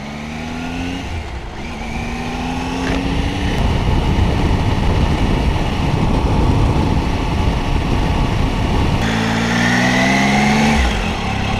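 Vehicle engine in sport mode on blacktop in the Ozarks, rising through the gears with distinct upshifts near the start and end, settling into a loud, steady drone of engine and tire noise at speed, with no talking.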